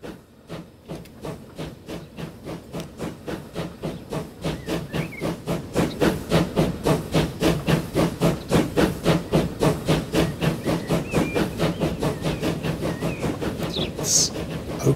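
Steam locomotive in Transport Fever, rhythmic chuffing hiss that steadily quickens and grows louder as the train builds speed, with a brief high whistle near the end and no talk.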